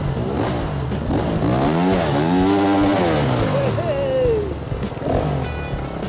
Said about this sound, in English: And now it's Anthony's turn to see how close he can get his rear spinning wheel and sprocket to Steve's leg before Steve notices what's going on